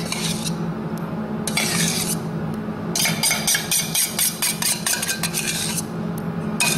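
Spoon spreading apple compote from the centre of a tart outward, a close, steady run of scraping and clinking strokes in bursts with short pauses, no voice.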